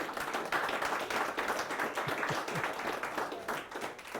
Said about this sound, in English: I never thought I'd get a round of applause for that